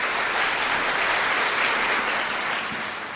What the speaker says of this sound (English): Big round of applause for Kana Patel.